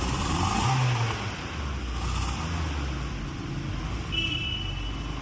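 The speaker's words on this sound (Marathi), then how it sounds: "गाडीचा एक वेळा साऊंड बघून घ्या कसा आहे" A stock car engine idles and revs briefly before an exhaust change, a low rumbling drone at moderate distance with a slight swell early on and steady running after, no talk.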